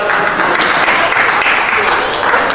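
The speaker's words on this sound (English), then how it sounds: "Give a big round of applause." Audience applause at a magic show, a full room clapping steadily and loudly, continuous dense patter with a faint voice underneath.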